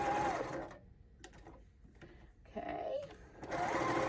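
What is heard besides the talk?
sewing machine stitching a pot holder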